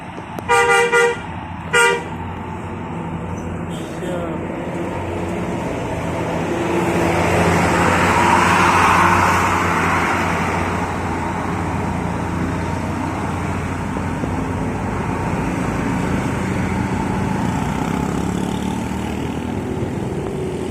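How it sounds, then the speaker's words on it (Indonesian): Several loud horn toots up close from a passing convoy of Mawar Jaya buses, followed by a sustained roar of engines and road noise as the buses go by. "Rombongan bis Mawarjaya."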